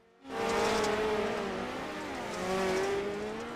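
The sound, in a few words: dirt midget race cars racing indoors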